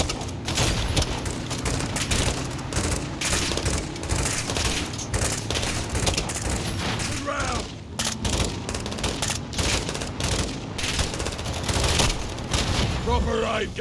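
Dense, continuous gunfire with heavy thumps from a launcher during a Call of Duty MWII campaign firefight, rattling bursts layered over one another at steady loudness with no break.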